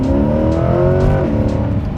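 A modified Chevrolet C8 Corvette accelerates hard, its loud, close engine howl rising steadily in pitch through a gear and then climbing again, continuous and alone.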